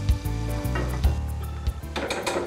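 Chopped garlic sizzling in hot olive oil in a pan, a steady fry with scraping and stirring knocks from a utensil, close and fairly loud, with no talk.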